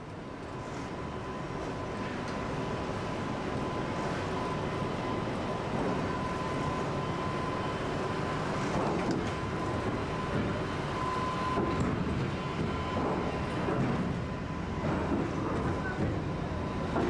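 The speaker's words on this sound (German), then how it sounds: "In Schrittgeschwindigkeit rollt der SVT auf das Schiff, bis es am anderen Ende wieder hell wird." An SVT 175 express railcar, a 255-tonne train, rolls at walking pace onto the ferry Warnemünde. It makes a steady, low rumbling drone that lasts throughout, with someone speaking over it.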